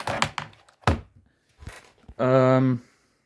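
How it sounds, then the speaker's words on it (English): A computer keyboard is set back in place on a desk with a few sharp knocks and thunks, close by, followed by a brief humming voice. "I will put the keyboard back in place because I studied a bit."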